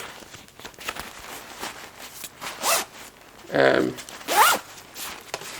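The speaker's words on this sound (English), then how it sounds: "One thing I can feel straight away is just how good these zippers feel to use." Zipper on a Mountain Hardwear Phantom Alpine down sleeping bag pulled in several quick, close strokes, two loud bright zips standing out among soft fabric rustle.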